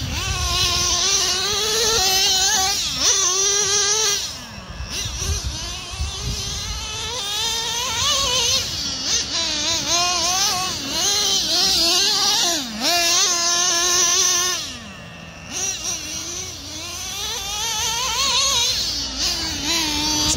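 A Traxxas Revo 3.3 nitro RC truck, fitted with a swaybar kit and center diff, runs hard. Its high buzzing engine revs up and down almost continuously for twenty seconds, loud and near, with a couple of brief dips.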